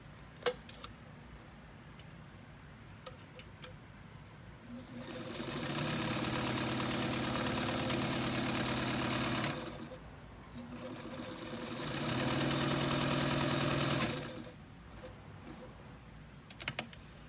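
A vintage all-metal Sears Kenmore model 15812000 sewing machine stitches a full zigzag in two steady whirring bursts of about five and two seconds, separated by a short pause, with faint clicks before and after.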